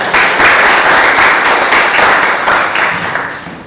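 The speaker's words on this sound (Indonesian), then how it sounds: "Tepuk tangan untuk kalian semua." Applause for students at a school orientation event at SMK Walisongo Semarang, a full hall clapping loudly and steadily for a few seconds before fading slightly.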